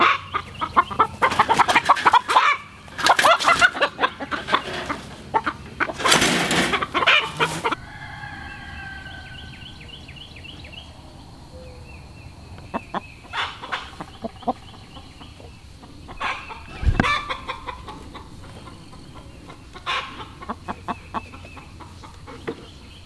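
Chickens on a homestead, turned out into a pen with cows, cluck and squawk close by, with a loud burst of activity early, then scattered clucks and calls over quiet background.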